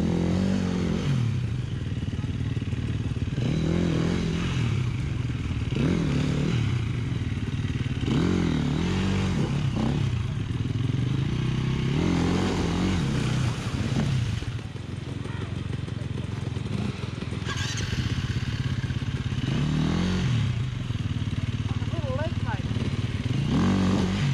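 A motorcycle crosses a creek with repeated engine revs rising and falling, plus clattering, splashing and scraping as the bike struggles through the water.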